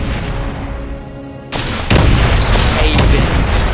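Warship weapons firing in the game Space Engineers: a sudden loud blast kicks in partway through, followed by a sustained roar of repeated heavy shots and booms, close and dense, with no talk.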